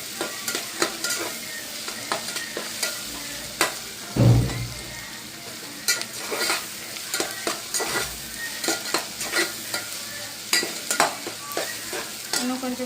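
Egg curry ingredients fry and sizzle in hot oil alone, with steady crackling broken by repeated scraping stirs and one heavier clatter partway through.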